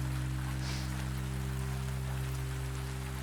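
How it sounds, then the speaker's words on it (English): Steady rain patters against window glass under a constant low hum, soft and continuous with no voices. "watches the rain trace its slow pass down the glass"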